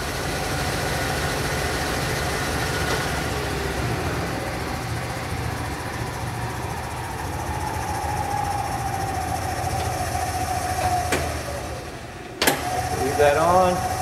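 A Hardinge HLV-H super precision toolroom lathe running at high speed, giving a steady mechanical hum with a light rattle from its set cover and a sharp clunk near the end. Someone talks over it.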